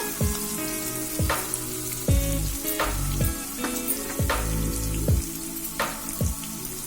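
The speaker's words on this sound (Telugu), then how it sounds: "ఇప్పుడు చింతకాయ పచ్చడి వేసేసాను. ఇది కూడా కొంచెం లైట్గా వేయించుకుందామండి." Raw tamarind chutney fries lightly in a pan, crackling and sizzling steadily with periodic stirring scrapes and a few louder spits, close and alone without voices.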